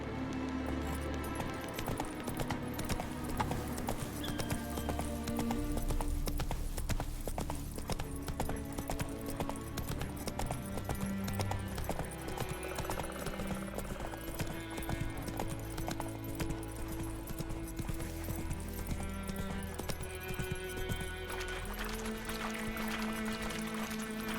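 Roach, the horse in The Witcher 3, trots with a steady, rhythmic clip-clop of hooves that runs throughout over melodic in-game music.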